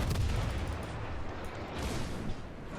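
Heavy naval gunfire from an enemy warship in World of Warships makes a dense, roaring rumble of booms that continues throughout without a break, and no speech is heard.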